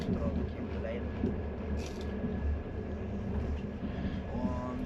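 Inside a moving passenger train compartment in Lithuania, a continuous low rumble and rolling clatter fill the space, with faint squeaks and a brief higher tone, while a person talks over the noise.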